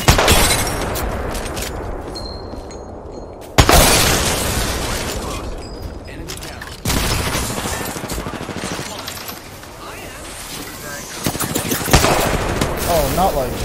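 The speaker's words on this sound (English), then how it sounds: "Shots fired, and they're hitting me" Video game gunfire in rapid automatic bursts, loud and close, with sharp cuts between bursts and a few brief clicks, running continuously throughout.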